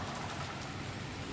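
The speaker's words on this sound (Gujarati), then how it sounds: "વરસાદ પણ બહુ વટીને આવે છે, જોઈ શકો છો." Heavy rain pours down in Junagadh as a dense, even hiss of drops hitting surfaces, steady and enveloping throughout with no voices.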